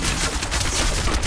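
Demon Hunter's rapid fire attack in Diablo 3, a dense rattling burst of quick repeated shots, loud and continuous throughout.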